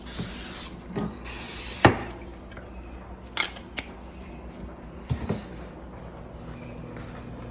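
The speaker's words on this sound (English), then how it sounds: "spray all the sides." Several short bursts from a cooking spray can hiss in quick spurts onto the sides of a pan, with light clatters and clicks of kitchen handling in between, fairly close and moderately quiet.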